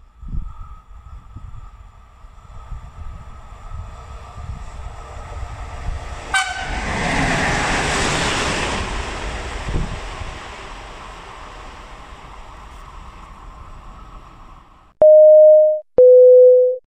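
Train passing through Anzola Emilia station on platform 1: a rumbling approach builds to a loud rush with a sharp horn blast, then fades, followed by two electronic announcement tones near the end.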